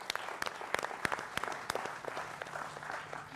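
A TV studio audience at a political debate show claps briefly, with sharp scattered hand claps over a soft, fairly faint bed of applause that thins out quickly.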